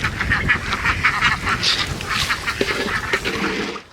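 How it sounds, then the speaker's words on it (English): Several ducks, among them pets named Honey and Alfred, quack repeatedly and close by, a busy run of overlapping nasal calls waiting to be fed. "ducks."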